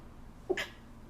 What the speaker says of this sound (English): Sorry, I blocked a sneeze.